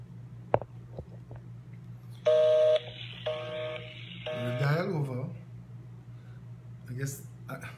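Telephone dialing tones as someone places a call: a few short beeps, then steady sustained tones in clear bursts, with a voice speaking faintly underneath and a brief clatter near the end.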